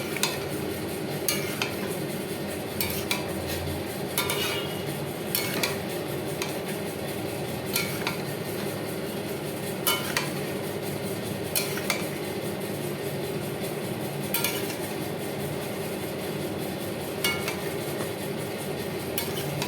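Vegetables for pui saag are stirred in a pan, a continuous frying sizzle under repeated metal spatula scrapes and clinks that come at a loose, regular rhythm for the whole stretch.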